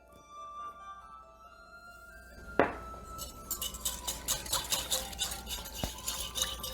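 An egg cracks into sweetroll batter with one sharp, close crack. A run of soft rhythmic clinks and stirring against a bowl follows, with no talking.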